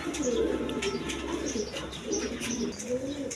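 Indian pigeons coo close by in soft, repeated rolling calls, several overlapping in a steady murmur with light chirps above.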